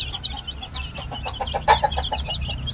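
A hen clucks steadily in short, repeated notes, with soft chick peeps and farmyard bustle around her.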